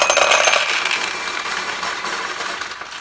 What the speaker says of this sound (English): Now that noise you just heard is the balls in the upper tray dropping into the recycle